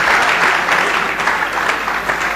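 Loud, dense audience applause at a leadership conference, a close and steady crowd of clapping hands sustained throughout with no talk over it.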